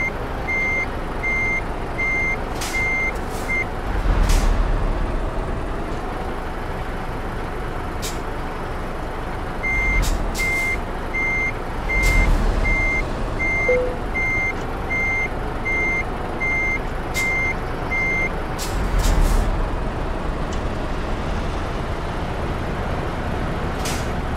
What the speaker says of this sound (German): Rückwärts einparken mit dem LKW